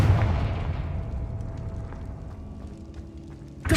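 A Confringo spell blast in Hogwarts Legacy bursts loudly at the start and decays into a rumbling tail, with another sharp burst hitting right at the end.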